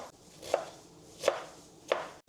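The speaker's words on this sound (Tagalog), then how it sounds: "Ngayon, mag-chop lang tayo ng cabbage." A knife chops through cabbage on a board for chicken sotanghon soup, three crisp, evenly spaced strokes, close and fairly quiet, with no one speaking.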